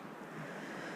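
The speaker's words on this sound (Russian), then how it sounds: "Только звук реки." A river flows near a riverside camp in the St. Joe area, a soft continuous broadband rush, faint and steady for a moment with no voices.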